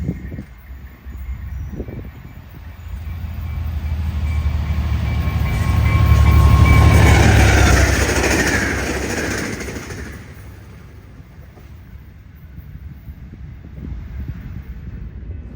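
A westbound Trinity Railway Express commuter train out of Dallas rolls past, its rumble swelling to a loud peak midway and then easing off into a steady background roar with some wind buffeting.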